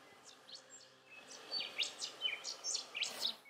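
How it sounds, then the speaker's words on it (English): A breeding rufous songlark calling on the Birdsville Track in inland Australia, a faint, repeated series of melodious chirping phrases growing slightly stronger over a few seconds. "We can hear the loud, persistent, melodious call of breeding rufous songlark."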